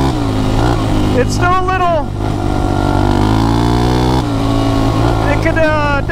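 A carbureted ATV or dirt bike engine, freshly worked on and still running a little rough, idles loud and close with a steady throb and brief blips of revving as someone talks over it.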